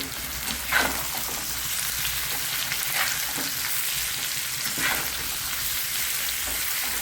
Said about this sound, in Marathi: एक इंच आलं टाकणार आहे भाजायला थोडंसं लसूण घेतलेला आहे तोही भाजायला टाकणार आहे